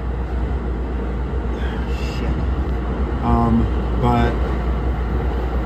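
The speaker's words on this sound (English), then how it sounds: "this locomotive is a Penske locomotive" NJ Transit train passing between Morris Plains and Convent Station, a steady low rumble with two brief horn-like tonal bursts near the end, heard under a person's voice.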